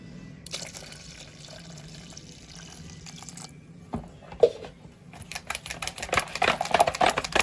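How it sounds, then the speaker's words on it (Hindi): Water pours into a pot of spices for kadhi pakora in a steady rushing stream after some quieter clinks and shuffling, getting louder toward the end. "अब इसमें मज़ीद पानी शामिल कर देते हैं।"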